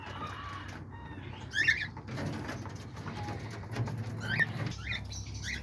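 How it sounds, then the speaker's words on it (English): Diamond doves coo in a home aviary, soft calls rising over a constant hiss of birds and room noise, with a couple of brief louder chirps and flutters nearby. "here's the diamond doves. I have a lot of diamond doves."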